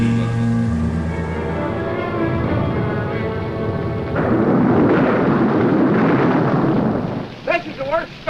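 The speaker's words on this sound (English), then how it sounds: "This is the worst storm yet." Heavy thunderstorm in the old monster film Bride of the Monster: a loud, sustained rumbling wash of thunder and rain fills the scene, with a voice briefly heard near the end.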